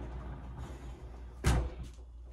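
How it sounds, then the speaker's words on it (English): A sliding bathroom door in a tiny house rolls open with one short thud and slide near the middle, fairly close, over quiet room tone. "Now we'll go check out the bathroom through the sliding door."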